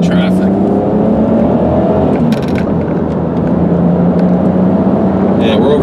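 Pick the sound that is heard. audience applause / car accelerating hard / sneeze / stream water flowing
car accelerating hard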